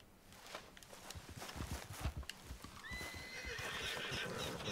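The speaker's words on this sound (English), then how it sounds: "Go get my horse." A horse in the Red Dead Redemption 2 video game gives a loud, drawn-out whinny over the steady clip-clop of its hooves, close by and without talk.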